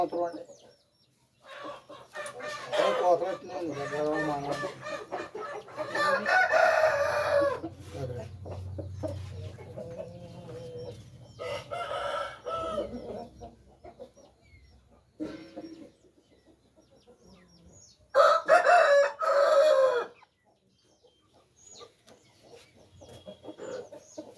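Chickens and roosters cluck and call in busy bursts at a rooster sale market in Kolla, with voices talking nearby and a louder crow-like call toward the end.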